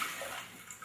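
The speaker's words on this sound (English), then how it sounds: "That made a splash." Water is poured into a large bowl with a faint, brief splashing rush lasting under a second.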